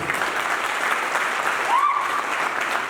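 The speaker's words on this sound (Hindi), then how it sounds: "तो मैं चाहूंगा एक बार जोरदार ताली आप लोगों को।" An indoor seminar crowd gives a round of loud applause during a Hindi motivational business talk. The clapping is a dense, sustained roar for nearly three seconds, and a short whistle-like squeal rises briefly midway.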